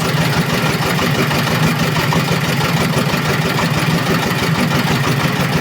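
A homemade tractor's engine idles at roughly 730 to 745 rpm, a loud, close, steady low rumble with an even pulsing throb that holds without a break and no voices over it.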